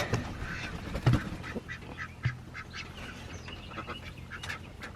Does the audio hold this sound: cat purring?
no